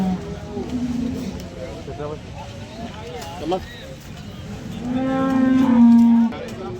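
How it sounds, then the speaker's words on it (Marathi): A cow at a busy village cattle market in Sangola moos twice, a short low call early and a longer, louder one near the end, amid background chatter and crowd noise. "आता आपण ही गाय कवर करतो"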